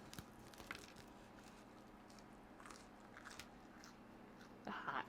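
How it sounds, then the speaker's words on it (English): A bite into crisp BBQ chicken flatbread pizza crust gives a short crunch near the end, heard close up after a stretch of quiet room noise with faint talk in the background. "My daughter going to taste the piece for y'all, so y'all can hear the crunch."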